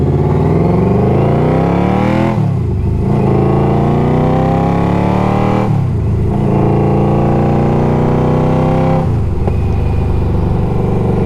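A Yamaha Royal Star Venture V4 touring motorcycle is ridden hard: its loud, close engine note climbs repeatedly, and each rise breaks with a brief dip as the rider shifts up, about three times in a row.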